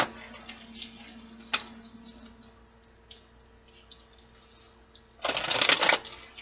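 Tarot cards being shuffled up close, with a few soft riffles and taps followed by a loud, dense burst of rapid shuffling near the end.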